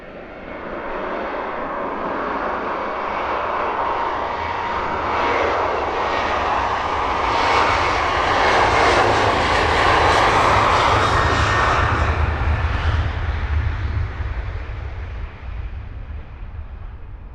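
A Ryanair airliner's jet engines roar overhead past Luton Airport in clear sunrise skies, a loud broad rushing drone that swells to a peak midway and slowly fades as the plane climbs away, with no speech.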